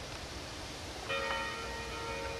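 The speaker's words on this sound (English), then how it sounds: "In the background, you can hear the bell," A remembrance bell at the Dachau concentration camp memorial rings once, faint and distant, its tone lingering over quiet outdoor ambience.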